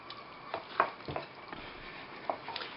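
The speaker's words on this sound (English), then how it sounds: "Okay, so then you're going to mix that. Make sure you get everything together." A spoon scrapes and knocks through a baked beans and pork mixture in a pot, a few soft, separate strokes heard close and quiet.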